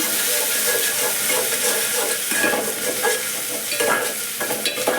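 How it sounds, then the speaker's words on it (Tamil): Tomatoes and onions sautéing with salt give off a dense, continuous sizzle and hiss, with the scrape and stir of a ladle cutting through now and then. "தக்காளி கொஞ்சம் போட்டு வதக்கிடுங்க"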